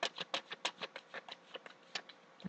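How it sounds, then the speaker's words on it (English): A deck of cards is shuffled quietly by hand in a string of soft, brisk riffling bursts, close to the microphone, with no talking. "I'll just complete this shuffle quietly"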